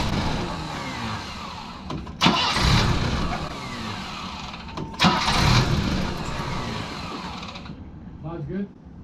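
A BMW E30 engine cranks and catches, with two loud bursts as it turns over and fires, then settles into a steady running rumble that fades toward the end.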